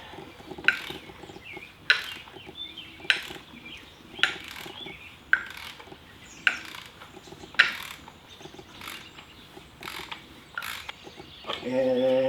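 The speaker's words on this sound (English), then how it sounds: "At the same time, push down on the wrench as you loosen it." A wrench loosens the fork cap on a Yamaha FJR1300 motorcycle, giving a steady series of sharp, evenly spaced ratcheting clicks about once a second, close and moderately loud, followed by a brief burst at the end.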